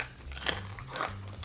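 Crisp crunches of teeth biting into homemade fried chicken, two short close crackly bites with faint chewing between, quiet and up close with no talking.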